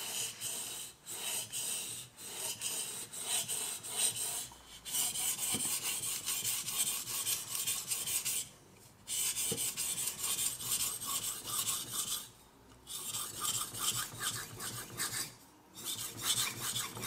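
A kitchen knife is sharpened on a Naguru whetstone in quick, continuous gritty rasping strokes, close up, with a few brief pauses and no talking.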